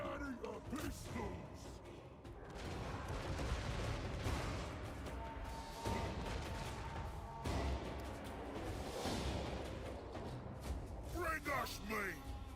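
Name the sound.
gunfire from pistols in a co-op video game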